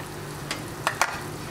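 Ground spices frying in a pan for bhindi keema with salt, turmeric, and red chilli, a steady low sizzle broken by a few sharp clinks of a spoon against the pan, close and fairly quiet with no voices.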